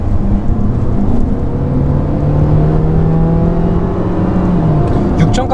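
SsangYong Torres AWD engine revving at high RPM while driving, a sustained loud engine drone with rising pitch and a faint whir, heard from inside the cabin with no voices.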